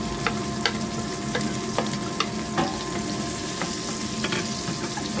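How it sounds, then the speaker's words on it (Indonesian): Chili spice paste sautés in hot oil with a steady close sizzle, and a utensil stirring through the pan adds light scraping ticks. "Minyaknya udah panas, kita masukkan, kita tumis dulu bumbunya ya."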